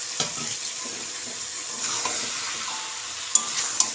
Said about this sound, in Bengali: আলু আর এঁচোড়টা ভালো করে নাড়াচাড়া দিয়ে নেব।